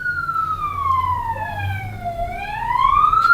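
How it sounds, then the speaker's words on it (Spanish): Ambulance siren wailing loudly and close, a smooth tone sweeping slowly down and then back up in pitch, with low traffic rumble beneath. "¿Es una ambulancia?"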